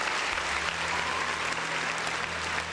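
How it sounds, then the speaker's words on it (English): Steady, dense applause from a studio or stream audience during a Twitch game show episode, a continuous wash of clapping at even loudness with no voices over it. "Let's get a quick applause here for Allie"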